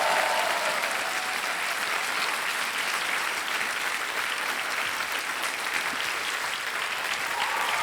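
Studio audience applauding on the Hindi TV quiz show Kaun Banega Crorepati after a contestant wins 3,20,000 rupees; dense, steady clapping fills the whole stretch at an even loudness with no talk over it.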